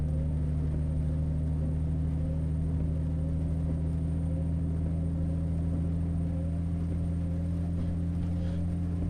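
A truck engine in Euro Truck Simulator 2 drones steadily as the heavy vehicle drives along, a constant low rumble with strong, even hum and no talking.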